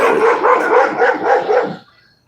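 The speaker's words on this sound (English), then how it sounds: "Oh, these damn dogs." Several dogs bark loudly and close by in a rapid, overlapping burst of yaps and barks that runs for nearly two seconds, then stops abruptly.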